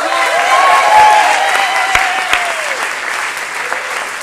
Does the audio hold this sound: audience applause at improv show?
yes